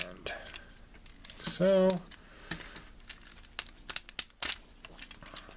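A plastic bag crinkles and rustles in short, close bursts as a Transformers KO Masterpiece Lambor toy hood is unbagged, with someone speaking briefly in between.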